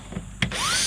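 A cordless power drill spins up to remove a Phillips head screw from a Kia Sorento trunk latch, a few soft clicks giving way to a rising, close motor whine.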